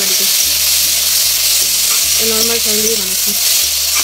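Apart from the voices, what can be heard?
chopped onions frying and sizzling in a pan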